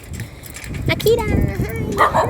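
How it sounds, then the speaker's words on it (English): A small dog barks and yips several times at close range, mixed in with people talking and outdoor background noise. "I love that dog, little dog."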